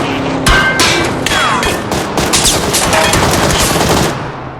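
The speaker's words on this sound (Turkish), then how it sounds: "şuradan ateş ediyor birisi" Rapid automatic gunfire in the shooter game PUBG, a dense continuous burst of loud shots with some higher metallic pings, steady throughout without talk.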